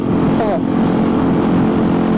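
A Kawasaki KLX 150 motorcycle rides after a service with a new clutch plate and spring, its engine droning steadily and close, with a brief rising whine partway through.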